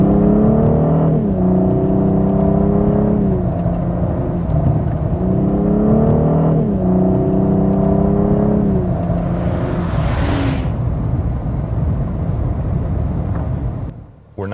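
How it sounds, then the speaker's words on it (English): Twin-turbo engine of a 2014 Cadillac CTS in tour mode, accelerating moderately through several smooth upshifts, a steady rising hum that drops at each gear change, loud and close from inside the car, ending in a brief quiet. "This is a moderate acceleration, and the car sounds smooth,"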